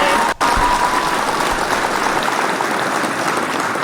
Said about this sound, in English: Those claps.